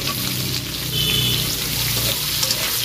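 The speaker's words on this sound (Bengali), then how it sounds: "আমি এই যে ডুমো ডুমো করে কেটে রাখা আলুটা ভেজে নেবো লাল লাল করে।" Diced potatoes fry in hot mustard oil, giving off a steady, dense sizzle that holds evenly throughout with no voices.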